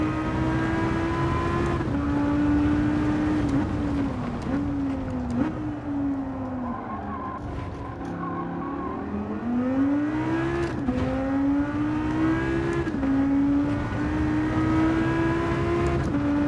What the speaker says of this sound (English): Stock exhaust sounds alright